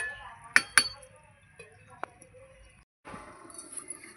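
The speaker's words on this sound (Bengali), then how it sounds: "এবার ঢাকা দিয়ে দেব।" A metal lid set onto a cooking pot of Bengali meat curry gives two sharp clinks close together, then a lighter tap, in a quiet kitchen.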